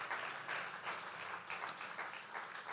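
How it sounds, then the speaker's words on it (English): Audience applause for a family at a live fashion show and auction, a steady mass of clapping from a crowd, moderately distant and even throughout. "Let's give the McGee family a huge round of applause."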